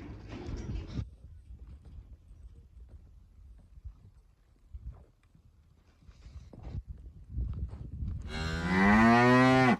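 Cattle being sorted and loaded at a loadout pen, with a loud long moo at the end, a shorter call at the start, and scattered hoof clatter and handling noise between them.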